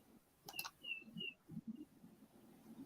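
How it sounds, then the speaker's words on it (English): A couple of faint, short bird chirps sound at a distance over a low, murmuring background. "I hear a bird."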